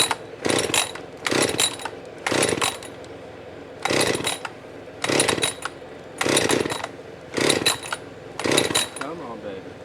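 A chainsaw is cranked by its pull cord outdoors beside a hackberry tree, eight rhythmic rasping pulls repeating about every second and a quarter, with the engine not yet catching and running.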